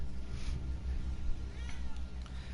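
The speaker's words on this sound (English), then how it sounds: "Meow." A pet cat meows indoors, giving two soft, brief meows over a low, steady background hum. No speech is heard.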